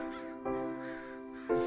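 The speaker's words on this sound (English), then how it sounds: "Fucking crows." Crows in the horror game Nevermind give two harsh, nasal caws, close and clear, separated by a short pause over quiet background.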